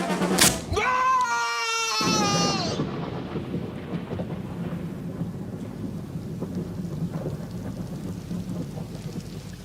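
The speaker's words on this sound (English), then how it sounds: "I like that rain at the end" Thunder and rain closing a documentary about astronauts: a thunderclap and crack open it, then a long steady hiss of rainfall follows, fairly loud and alone.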